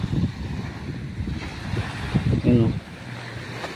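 Waves wash steadily onto the shore with wind rumbling against the microphone, while a person speaks briefly over the surf.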